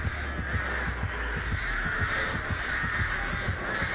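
Crows caw repeatedly in the mobile horror game Dead by Daylight Mobile, a steady series of harsh calls over a constant low game hum, with no talking.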